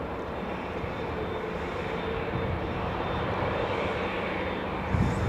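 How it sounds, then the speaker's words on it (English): An Aeromexico Boeing 787 Dreamliner jet at Los Angeles International Airport gives off a steady, moderately loud engine rumble and whine, with a brief thump near the end. "Let's say we have a Mexican Dreamliner right in front of us"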